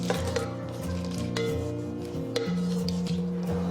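Mud snails with green and red peppers being stir-fried in a wok over high heat, a steady hiss with scattered metallic clinks and scrapes of the spatula, no talking.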